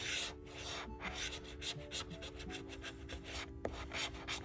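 A scratch-off lottery ticket is scraped with short, rapid, repeated strokes close by, forming a steady raspy rubbing that carries on throughout at low volume.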